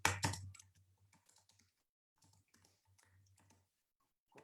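Typing on a computer keyboard during a live question-and-answer session: a loud burst of clatter at first, then quieter irregular key taps in short runs over a low hum.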